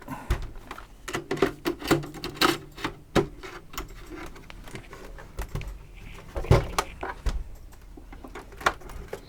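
Screws go back into a PS3 Slim console, heard as a run of close, sharp clicks, taps and small metallic knocks from a screwdriver and casing, irregular and fairly quiet.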